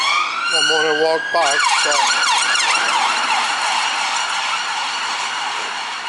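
Several police car sirens pass along a city street at dusk, wailing and yelping loudly, then fading slightly as they move away, with a brief spoken word over them.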